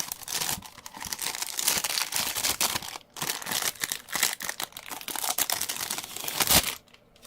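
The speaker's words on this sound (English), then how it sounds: "if I unwrap it, it has its own shrink wrap as well" Plastic shrink wrap and packaging being peeled off anime merchandise by hand, a close, busy run of crinkling and crackling with short tearing bursts and a brief pause midway, no talking.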